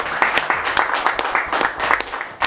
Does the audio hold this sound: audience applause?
yes